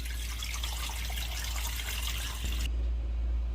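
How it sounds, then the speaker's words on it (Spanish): About two liters of water pour steadily into a pot for a flan bain-marie, a continuous close hiss and splash that changes tone near the end as the stream stops. "Vamos a agregar aproximadamente 2 litros de agua."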